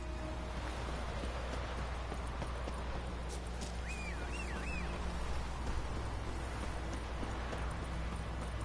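Roach, the horse in The Witcher 3, galloping with a steady clip-clop of hooves under a constant dense game soundscape and a brief whistling tone in the middle.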